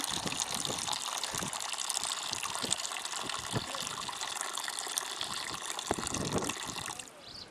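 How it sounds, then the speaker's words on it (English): Water gurgles and trickles steadily as it drains from a container at the Equator in Kenya, with small splashes and bubbling throughout, fading out near the end. "Allow the water to go down again."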